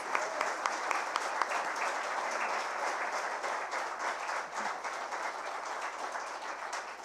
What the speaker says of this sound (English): they all deserve a really great big round of applause